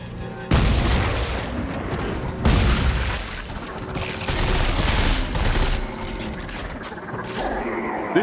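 Shotgun blasts in the survival horror game Dead Space 3, several heavy booming shots spaced a second or two apart over a dense, noisy battle din, loud and close.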